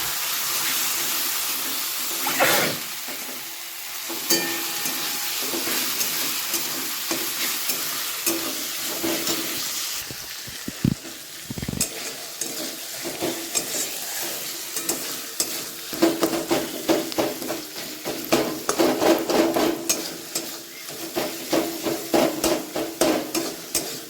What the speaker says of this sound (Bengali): এটার মধ্যে দিয়ে দেবো টমেটো কুচি টমেটো কুচিটা দিয়ে দেবেন এটা ভালো করে কষিয়ে নেবো